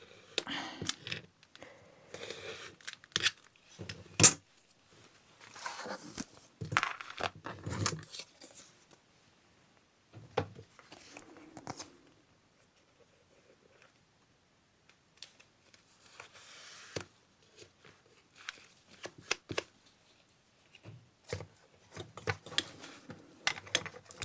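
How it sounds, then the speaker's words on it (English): A knife cutting paper for a journal spread, quiet close scraping and slicing strokes in irregular bursts separated by silent pauses, with occasional rustling of the sheet. "I think I'll try and cut that on my knife carefully."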